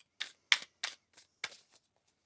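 A deck of tarot cards is shuffled by hand in several quick, crisp bursts, close and clear, with short pauses between them.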